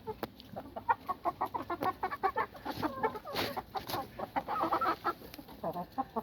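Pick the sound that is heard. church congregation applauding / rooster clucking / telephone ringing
rooster clucking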